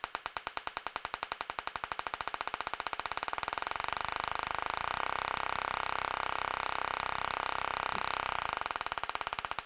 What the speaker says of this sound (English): Sounds about like the Stirling engine.